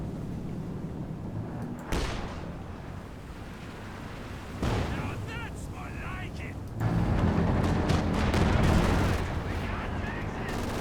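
An artillery strike in Company of Heroes 2 lands in sudden heavy booms and rumbling blasts amid continuous battlefield noise, with someone talking over the action.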